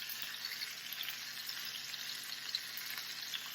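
Garlic and peppers frying in a pan, a steady, even sizzle with faint crackles throughout, close and moderately quiet, no talking.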